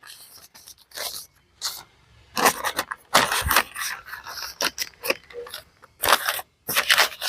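A piece of paper is folded by hand into a small cap for covering seedlings, giving close, crisp crinkles and rustles in uneven bursts separated by short pauses.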